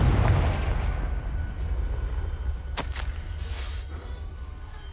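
Confringo spell explosion in a Harry Potter video game, a single loud booming blast with a rumbling tail fading over several seconds, heard alone.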